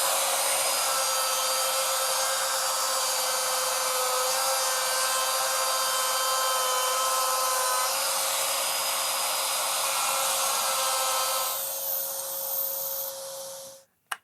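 An old plunge router fitted with a dust collection attachment cuts wood with a loud, steady whining drone for about twelve seconds, then spins down and stops, with no voices.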